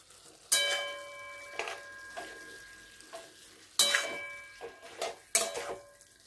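A spoon stirs posto, poppy seed paste cooked with bottle gourd greens, stems and potato, in a pan. Several separate scraping strokes come close and fairly loud, with a soft sizzle between them and no talking.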